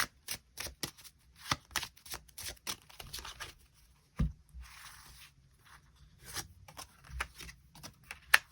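Tarot cards shuffled by hand, a quick series of crisp riffling and flicking bursts with short pauses between them, close up and fairly quiet, with no talking.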